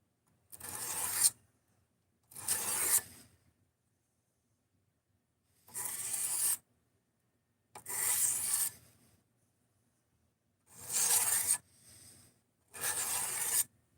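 A knife is drawn across a 600 grit sharpening stone in six separate strokes of about a second each, giving a bright, close scraping rasp. Short silences fall between the strokes.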